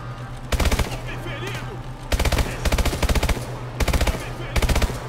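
Submachine gun fire in the video game Call of Duty: Advanced Warfare, three loud rapid bursts separated by short gaps, over a steady low battle hum and background game ambience.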